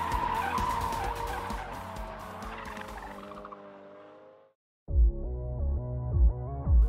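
A car drifting with PS4 tyres on the front and Primacy tyres on the rear: loud sustained tyre squeal over engine roar that fades out, a brief silence, then revving engine and renewed squealing.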